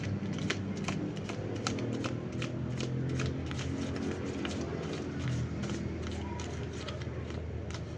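Playing cards are shuffled and dealt one by one onto a surface during a card reading, with quick, regular snaps and flicks repeating throughout over a low steady background hum.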